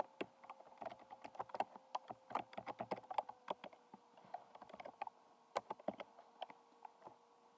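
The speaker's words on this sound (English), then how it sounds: "type the full name" Keys clatter on a computer keyboard while a name is entered during a Linux operating system installation, a fast, irregular run of close, crisp keystrokes with brief pauses and no talking.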